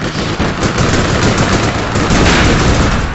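Sustained automatic gunfire from a weapon with heavy recoil in the online shooter APB, a loud, dense burst of rapid shots running without a break for the whole stretch.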